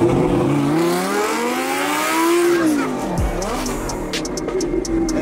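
A stage 2 remapped Lamborghini accelerates hard, its engine note rising in a long sweeping climb, dipping, then surging again with sharp pops and crackles near the end, loud and close with no talk.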